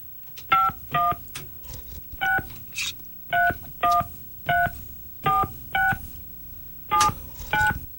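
Touch-tone telephone keypad dialing a number: about a dozen distinct beeps, each a short, clear dual-tone pulse, spaced unevenly in small groups over a quiet line with no talking.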